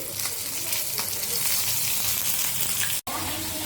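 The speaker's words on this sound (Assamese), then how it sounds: "মাছখিনি এয়া ফ্ৰাই হৈ গৈছে" Fish frying in a pan for an Assamese home recipe, a dense, steady sizzle that stays loud and even throughout, broken by one very brief drop near the end.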